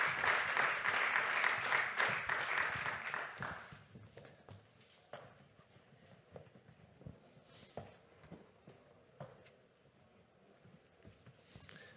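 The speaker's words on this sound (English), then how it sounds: "please give a warm round of applause to our panelists." Audience applause welcoming panelists at a European data summit, fairly soft, fading out after a few seconds into quiet room noise with faint footsteps and taps.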